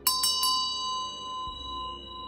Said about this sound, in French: j'ai reçu un soin cloche tibétaine. avec la cloche.